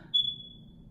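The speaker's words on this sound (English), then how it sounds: "My fire alarm thing keeps going off." A household smoke alarm chirps once, a single sharp high-pitched beep that rings out and fades over a low room hum, with no talking.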